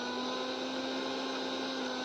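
A mixer grinder whirs steadily, blending chopped medicinal leaves with a little water into a paste, giving a continuous motor drone at moderate volume with no voices.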